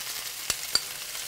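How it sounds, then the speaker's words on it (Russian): Steady hissing sizzle of sour cream frying in a pan with garlic, with two sharp little pops breaking through. "Так, сметана у нас жарится, парится."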